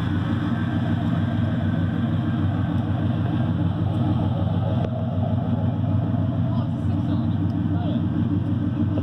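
Chevy truck with a swapped 4.3L V6 running at idle, a steady low burbling engine drone throughout, close and continuous, with people talking over it.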